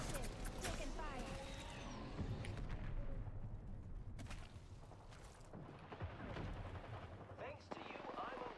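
Gunfire and explosions crackle and boom through a busy video game battle, dense and continuous, with a voice speaking over it.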